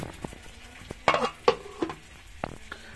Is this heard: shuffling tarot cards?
no